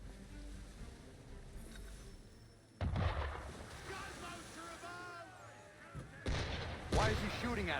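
Ship cannons firing in Assassin's Creed 3 Remastered, two heavy booming blasts a few seconds apart over rolling sea and ship noise, with characters talking in between.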